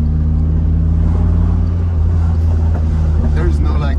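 A Maserati Shamal's turbocharged engine pulling hard in third gear from around 2,000 rpm on a New York drive, heard from inside the cabin as a deep, steady droning roar with rising tones, with people talking over it.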